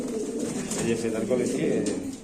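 Pigeons, including King and Bombai breeds, coo in a low, steady murmur throughout at a pigeon sale, mixed with background voices and general crowd noise.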